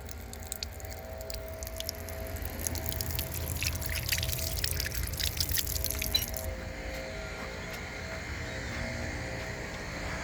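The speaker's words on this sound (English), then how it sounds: "Right, so these pedals, you push these pedals for water." Water splashes and trickles from a pedal-operated public drinking fountain on a seawall esplanade, a soft spattering flow over steady outdoor background noise that eases off partway through.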